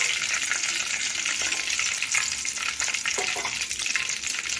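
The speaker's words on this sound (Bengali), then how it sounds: "লো ফ্লেমে আস্তে আস্তে ভেজে নিতে হবে।" Minced-meat egg pakoras fry on a low flame, giving a steady, close hiss and sizzle of oil that runs without a break, with faint stirring underneath and no talking.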